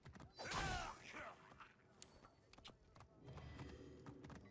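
In a video game, horse hooves clip-clop faintly alongside a neigh and creaking mechanisms, with soft game ambience underneath throughout.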